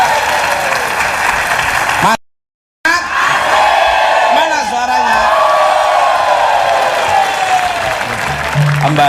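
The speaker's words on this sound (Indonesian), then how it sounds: "tepuk tangan dong." A television studio audience on an Indonesian evening talk show breaks into loud applause mixed with cheering and whoops, interrupted by a brief silent gap, while a host speaks over it.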